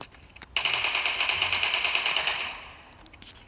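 Rapid automatic gunfire from a video game, a dense burst of fast repeated shots lasting about two seconds before trailing off into quieter game noise, with no one speaking.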